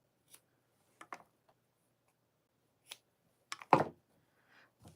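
Scissors snip off knots in 1.5 millimeter nylon cord, a few faint, sparse clicks and short cuts spread across a quiet background, with one sharper, louder snip near the end.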